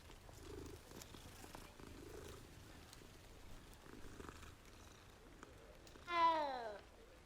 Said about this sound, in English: And if you notice, it doesn't even start with the meow.